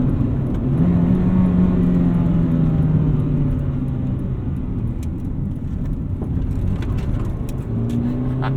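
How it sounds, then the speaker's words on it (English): A 1995 Acura Integra GSR, front-wheel drive, driven hard through a corner, with steady loud road and engine rumble and a faint tire hum running throughout. "Got a little bit of tire noise there at that last corner."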